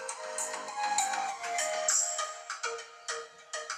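Bright, tuneful music plays from the loudspeaker of an IIIF150 Air1 Ultra rugged smartphone, steady for about two seconds, then breaking into short bursts of notes.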